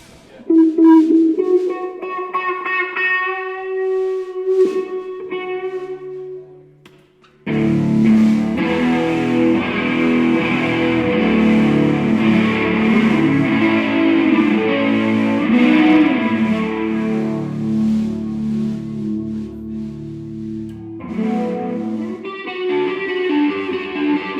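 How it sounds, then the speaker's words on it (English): Electric guitar run through an effects pedalboard and amp, moving from clean ringing notes to a thick, sustained distorted tone, then back to cleaner chords; loud and close. "To hear this badass board and amp setup would be great."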